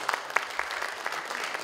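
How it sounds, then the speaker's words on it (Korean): Scattered hand claps at a CEO welcome reception, a handful of distinct claps spaced apart rather than a full ovation, fairly soft and brief. "그 인사 말씀해 주신 백지룡 회장님께 다시 한번 박수 부탁드립니다"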